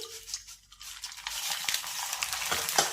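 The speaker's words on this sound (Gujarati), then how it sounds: "આ સ્ટેજે આપણે અડધા પૌવાને તેલમાં એડ કરીશું" Corn poha drops into hot oil and fries with a rising crackling sizzle, growing louder and denser after a quiet start, close and brief.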